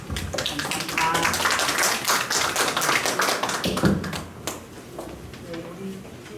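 An audience breaks into dense, steady applause after a poet recites a poem at a Korean literary festival honoring poet Hyeongu, with rapid overlapping claps for about four seconds that then thin out.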